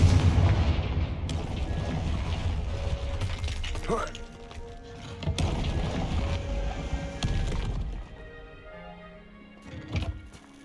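In Hogwarts Legacy, Bombarda and Confringo spells go off as several booming blasts and crackling impacts of varying loudness, with quieter rumbling between them and a final burst near the end.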